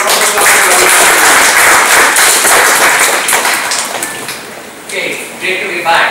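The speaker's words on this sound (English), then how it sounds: "Give a round of applause for" An audience at a Scrum Bangalore meetup applauds an Agile coach from Cognizant, loud close clapping that swells, thins toward the end and picks up again briefly.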